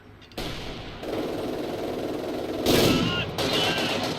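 Heavy machine gun fire in a strategy video game: a sustained, dense rattle of rapid shots begins abruptly and grows louder with further bursts layered in over a loud, steady din.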